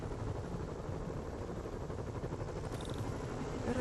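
Steady low whirring rumble of a helicopter in the video game Marvel's Spider-Man, continuous and fairly loud throughout, with a brief higher tone near the end.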